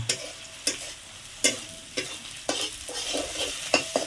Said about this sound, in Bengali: এবার চলে গেলো রসুন বাটা, জিরে বাটা, আদা বাটা